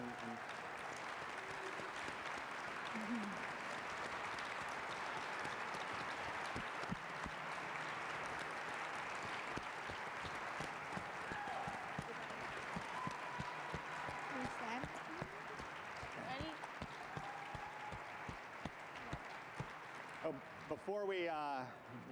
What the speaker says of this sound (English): If you can all join me in giving them all an amazing round of applause